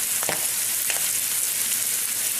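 Potatoes being stirred in a frying pan where they are sticking, a loud continuous sizzle broken by a few sharp scrapes of the utensil, close up with no talking.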